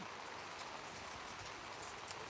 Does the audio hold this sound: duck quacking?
no